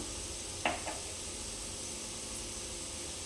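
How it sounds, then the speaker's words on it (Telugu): Onions fry in a pan with a steady, soft hissing sizzle throughout, interrupted early by a brief clink of a utensil, faint and without talk. "ఆనియన్ బాగా ఫ్రై అయ్యాయి కదండి"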